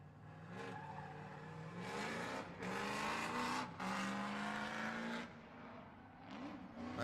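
A drift car at a ProAm qualifying event revs hard into a corner on an e-brake entry, rising engine notes punctuated by bursts of tire squeal, heard from a moderate distance with faint commentary underneath.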